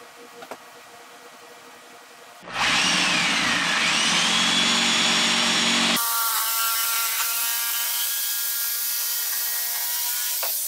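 Angle grinder working on a piece of steel, starting abruptly with a loud sustained whine whose pitch bends as the disc bites the metal, then a steady high grinding drone continuing to the end.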